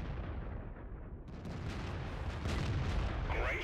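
Artillery gun fire in the World of Tanks video game, a dense, loud roaring blast that swells after a brief lull and fills the clip without speech.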